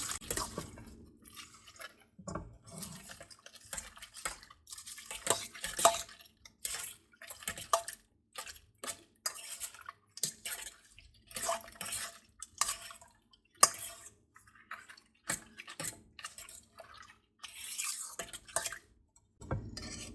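Spoon stirring a green bean casserole mixture of string beans in a dish, with repeated quiet scraping and wet clinking strokes in an irregular rhythm and no talking.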